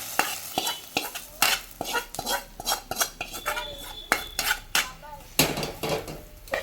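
A Kerala bean thoran with mustard seed tempering is stirred in a pan. Repeated spoon scrapes and metallic clinks come in an uneven rhythm over a light sizzle, close and fairly loud.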